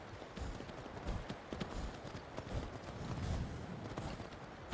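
Horse hooves clip-clop steadily in Skyrim as a mount climbs rocky ground near a grotto. The irregular, close footfalls run throughout over a faint wind-like background.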